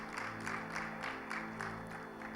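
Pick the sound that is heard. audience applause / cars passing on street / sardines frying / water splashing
audience applause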